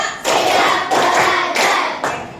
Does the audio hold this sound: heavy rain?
no